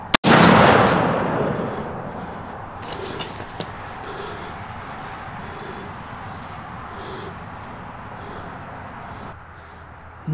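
Rifle shot fired while hunting an Alaskan muskox in the Bering Sea region, a single sharp loud blast at the start that rumbles and echoes away over open ground, followed by quiet outdoor ambience.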